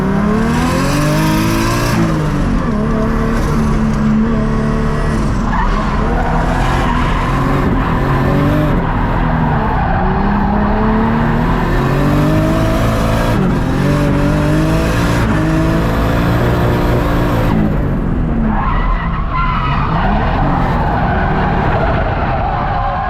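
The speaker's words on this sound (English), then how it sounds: "A JZ with a nice turbo, or an external gate. It just sounds so good." A turbocharged 1JZ-swapped Ford Mustang driven hard, the engine revving up and down repeatedly through gears with tire squeal, loud and close from inside the car for the whole stretch.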